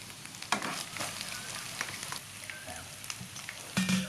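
Curry paste and pork sizzle steadily in a hot pan while a spatula scrapes and stirs, with a voice briefly audible near the end.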